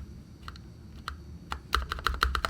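Keystrokes on a custom Daring Run Flip 6P keyboard with Husky switches and GMK Tuzi keycaps, first a few scattered presses, then a quicker run of crisp, solid clacks, close and clear.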